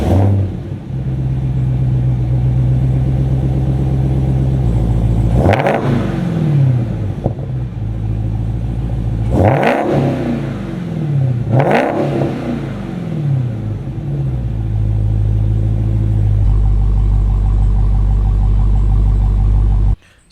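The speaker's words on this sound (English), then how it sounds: "what the car sounds like stock." A stock-exhaust Dodge Challenger Hellcat idling with a deep burbling rumble, punctuated by three sharp revs that climb and fall, then settling back to a throaty idle.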